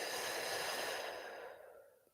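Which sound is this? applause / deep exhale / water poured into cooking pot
deep exhale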